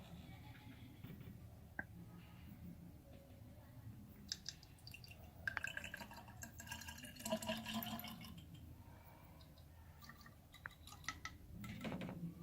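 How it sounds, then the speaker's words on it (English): Original BMW coolant being poured into the coolant reservoir of a BMW Z4 E85 Facelift, faint trickling and dripping liquid with small plastic clicks and taps, close by. "So let me refill some. I'm using a BMW coolant"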